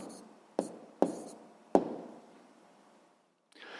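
Pen writing down the answer to a math exercise: three crisp taps followed by a soft scratching stroke, close and quiet, then a brief pause and a faint rustle.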